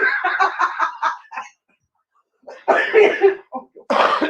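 A burst of rapid hacking coughs, then a pause, followed by more raspy coughing and throat clearing, loud and close.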